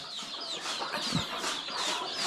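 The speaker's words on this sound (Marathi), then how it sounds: "ती कोंबडी जी आहे ती गेली बाहेर" A desi hen on a Konkan village poultry farm clucks softly near her newly hatched chicks. High chick peeps run steadily throughout, with a single low cluck in the middle, heard close and without talk.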